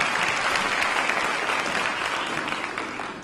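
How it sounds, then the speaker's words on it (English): An awards-ceremony audience gives a teen gospel choir a strong round of applause, broad sustained clapping that slowly tapers toward the end, with no speech heard. "please join me in giving Vi Higginson's Gospel for Teens Choir another round of applause."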